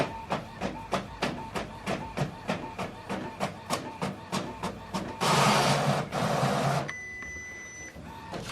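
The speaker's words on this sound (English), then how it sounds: "It's now printing test page." An Epson WF 7840 inkjet printer prints a test page, giving a rapid regular series of clicking mechanical pulses, then a louder whirring rush of paper feed, and finally a fainter hum with a steady electronic whine.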